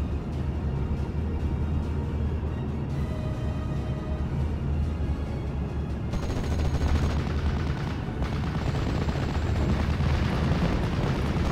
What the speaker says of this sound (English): Oh, tanks are firing at us.